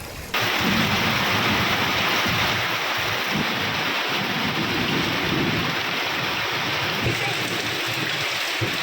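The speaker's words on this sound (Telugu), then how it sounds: "గత రాత్రి నుండి ఎడతెరిపి లేకుండా వర్షం కురుస్తోంది." Heavy, unbroken rain pours down in Telangana, a dense continuous hiss that starts abruptly and holds steady throughout, with no voices over it.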